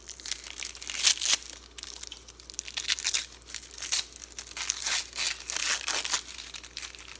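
Abuelita chocolate tablet wrapper being torn open, a close run of crinkling and tearing bursts with brief pauses, alone with no talk.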